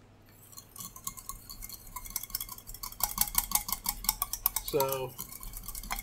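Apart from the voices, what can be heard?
mixing a vinaigrette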